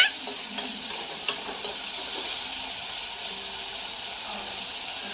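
Food is stirred and mixed in a pan while frying, with a continuous close sizzle and hiss and soft scraping strokes of a spoon at irregular intervals.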